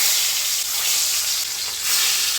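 Eggplant and tomato frying in hot oil for a Bengali spicy fish curry, giving a steady, loud, close sizzle that swells and eases slightly throughout, with no talking.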